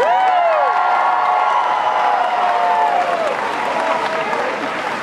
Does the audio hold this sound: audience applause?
yes